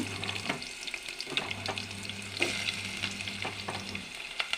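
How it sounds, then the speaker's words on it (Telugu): Onions, cumin seeds and fenugreek seeds fry in a pan as the base for an okra stew, with a steady close sizzle broken by repeated scraping stirs and nobody speaking. "ఇవిగండి బెండకాయ పులుసుకి ఉల్లిపాయలు వేగిపోయినాయి"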